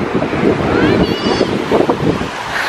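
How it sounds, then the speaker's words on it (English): Ocean surf breaking on a beach, a steady broadband wash with wind buffeting the microphone throughout and voices talking over it. "I don't like the waves."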